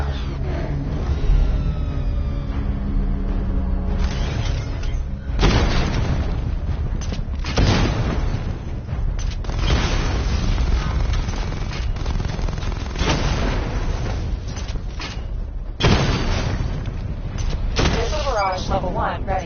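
Missile barrage explosions in Batman: Arkham Knight land as a series of heavy booms and blasts spread over the stretch, under a spoken voice and continuous game noise.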